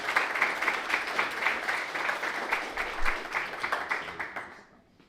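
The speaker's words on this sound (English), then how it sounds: "give a nice big warm welcoming round of applause to Mel," A crowd at a game-industry talk on IP and VR development claps in dense, steady applause that tapers off and fades out near the end.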